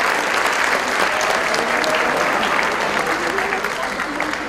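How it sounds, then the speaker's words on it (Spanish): Steady, dense applause from a crowd at a school graduation ceremony in a hall, loud and continuous for several seconds with no voices standing out. "Le brindamos nuevamente un fuerte aplauso al octavo año A y sus alumnos licenciados."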